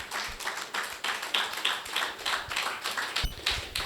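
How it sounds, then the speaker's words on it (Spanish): Congregation clapping in a church service, rhythmic unison claps in a steady beat, moderately close and fairly soft, with no talking over them. "Dale un aplauso al Señor."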